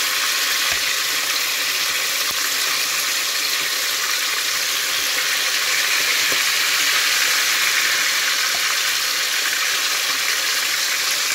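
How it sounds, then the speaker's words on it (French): Pieces of lamb fry in hot oil with a loud, dense, unbroken sizzle and hiss that holds steady from start to finish. "je vais commencer à frire les morceaux de viande d'agneau"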